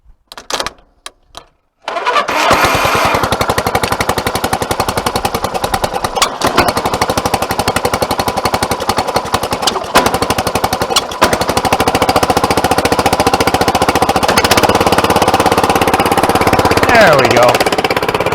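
An old engine with an added muffler sputters, catches and then runs very loud and rough close by, a fast pounding chatter that holds steady, with someone talking over it.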